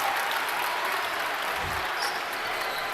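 Spectators at a Mount St. Joseph versus Archbishop Spalding varsity basketball game clap and cheer in a sustained, loud burst of applause filling a gym after a layup.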